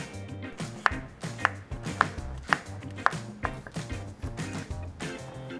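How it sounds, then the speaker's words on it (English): Onions being chopped with a knife on a board: a run of about eight sharp, evenly spaced cuts, fairly close and moderately loud, with no talk. "we're gonna cut a little bit of onions inside at the same time"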